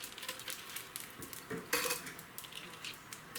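Chicken wings being tossed with butter and hot sauce in a bowl, giving soft clinks and scraping of a utensil against the dish, fairly quiet with a brief louder clatter midway.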